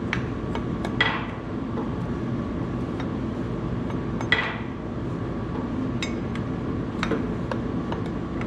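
Metal clinks ring out now and then as a tool strikes the oil pan of a Minneapolis Moline A4T tractor soaked in hydraulic fluid, a few sharp taps over a steady low rumble of background noise.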